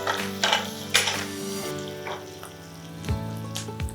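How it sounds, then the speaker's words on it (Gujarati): Hot oil tempering with curry leaves poured straight into a ginger, garlic and chilli paste, giving short bursts of sizzling and crackling that rise sharply and then settle into a softer hiss, with no talk. "સીધો વઘાર જ એડ કરી દઈએ છીએ મસાલામાં"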